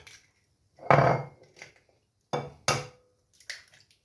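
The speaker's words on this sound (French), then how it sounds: "casser nos 3 œufs" Three eggs are cracked into a bowl for a crème caramel mix: a few close, sharp taps and clicks against the bowl's rim in short bursts, separated by silence.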